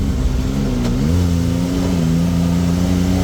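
A car engine revs loudly and steadily up close, its pitch climbing briefly then holding a strong, sustained drone with no talk over it.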